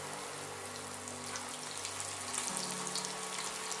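Fish fillet cooking meunière-style in a frying pan gives a steady, close hiss of sizzling that holds at even loudness throughout, with no talking.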